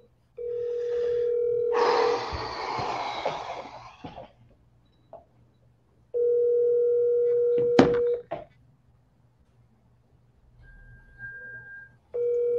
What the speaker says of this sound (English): I'm double dialing.